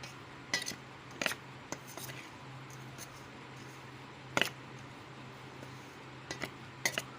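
Pakora batter with potato chips and chopped red and green chillies mixed in a bowl: scattered clinks and scrapes of a utensil against the bowl, a few sharp knocks among soft squelching, close, without talk.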